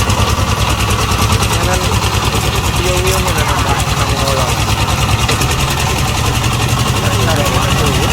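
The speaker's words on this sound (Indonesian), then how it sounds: "Traktor bot ini mampu bekerja maksimal di berbagai kondisi tanah sawah." A modified tractor boat engine built for working rice paddies drones steadily and loudly throughout, close by, with a rough continuous rumble and people talking over it.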